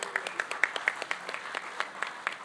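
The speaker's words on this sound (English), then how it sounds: "Give him a warm round of applause." Scattered clapping from a small group, light and uneven, fading into sparse individual claps.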